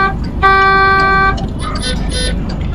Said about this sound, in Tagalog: may busina ng busina sa likod